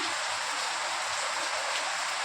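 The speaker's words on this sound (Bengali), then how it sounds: "বাইরে এখন খুব জোরে বৃষ্টি পড়ছে" Heavy rain falls outside as a dense, steady hiss of water with no distinct drops. The sound stays even and continuous throughout the short stretch.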